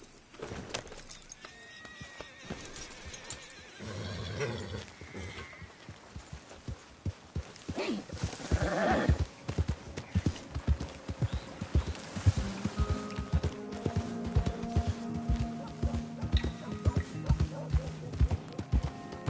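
Horse hooves clop in Red Dead Redemption 2, a run of quick, fairly loud hoofbeats building from the middle and continuing to the end over steady game ambience; no distinct neigh stands out.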